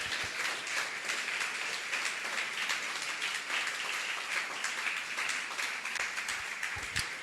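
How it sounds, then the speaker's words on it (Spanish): A church congregation applauding steadily during a sermon, a dense, even wash of clapping that holds at a constant level throughout with no voices on top. "denle un aplauso al Señor"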